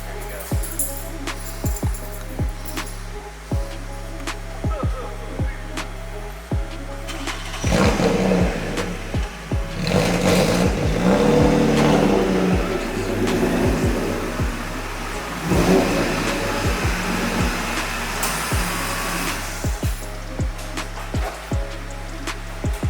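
A BMW E36 engine idles and burbles nearby, rising briefly in revs as the car is eased backward, then settling back to a steady low idle.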